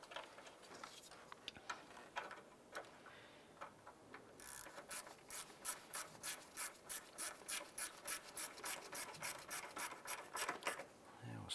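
Ratchet wrench tightening a 10mm bolt on a 2001-2005 Honda Civic starter, a rapid train of evenly spaced clicks after some softer fumbling, close and fairly quiet.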